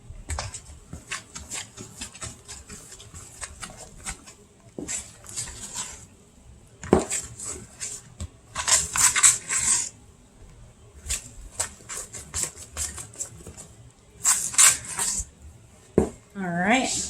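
Homemade pizza dough being stirred in a bowl, with intermittent scraping and soft clattering of the spoon against the bowl in short bursts, while a person talks throughout.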